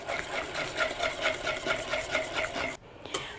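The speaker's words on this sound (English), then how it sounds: "And I'm going to whisk that in." Baking soda is whisked into banana bread batter in a bowl, giving quick, rhythmic clinking and swishing strokes up close that stop near the end.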